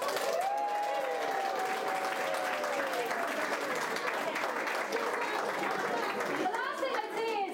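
Sustained applause from a crowd at a national school art exhibition, with children's voices and a faint high whistle mixed into the steady clapping, which swells again near the end.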